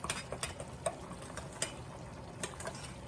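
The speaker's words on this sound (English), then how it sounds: "I'm just going to stir it up and get the cornmeal and the flour mixed up together" Quiet scraping and light clicks of a utensil stirring cornmeal and flour together in a bowl for hot water cornbread, a handful of soft irregular taps over low background hiss.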